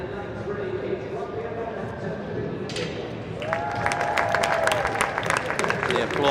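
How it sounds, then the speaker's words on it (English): Applause and cheers rise inside the Utilita Arena at an indoor athletics meet, starting under a commentator's voice and swelling into loud, dense clapping with crowd noise. "The applause and the cheers you're hearing is from inside the Utilita Arena"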